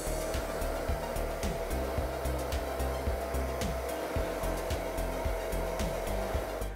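A hair dryer runs steadily close by, drying the roots of hair set in rollers, a continuous airy whoosh with a faint motor whine and small fluttering variations as it moves, with no talking.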